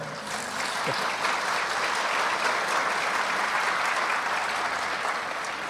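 Sustained applause from an audience at a talk, honoring a sign language interpreter: dense, even clapping that stays steady and fairly full for several seconds without a break.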